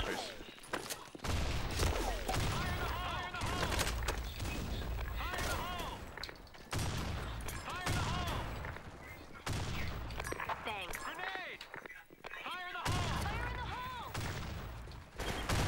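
Rapid bursts of gunfire from the first-person shooter Blackshot, loud and repeated in clusters across the whole stretch, with players talking over the shooting throughout.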